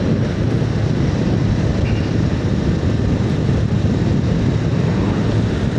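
A 2025 Honda Rebel 500 motorcycle cruises in fourth gear at around 35 to 40 mph, giving a loud, steady low engine drone mixed with heavy wind rush over the microphone, unbroken throughout.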